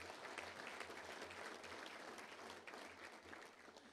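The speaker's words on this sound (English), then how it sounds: "Let's give them a big round of applause today" Sustained applause from a luncheon club audience thanking event sponsors, a dense steady wash of many hands clapping at moderate distance with no talk over it.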